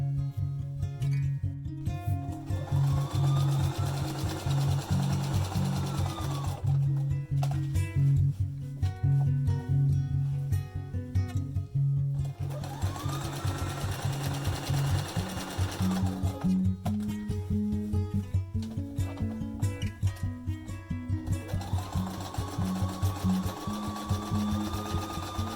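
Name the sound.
sewing machine stitching a fabric mask seam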